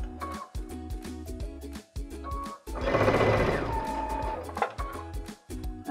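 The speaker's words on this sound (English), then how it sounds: "So I'm gonna stop, lock my thread, cut my thread, and take it out of the machine." A sewing machine stitches tucks into a necktie, running in short bursts of rapid mechanical chatter with brief stops between them and one longer, denser run in the middle, close and clear with no voices.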